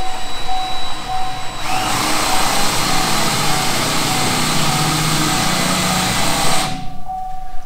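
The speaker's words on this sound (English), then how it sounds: "I can hear the fan running in the back of that one" A steady mechanical whir from a small cooling fan inside an LED plow light runs close by, with a brief broadband hiss-like surge in the middle before settling back to the hum.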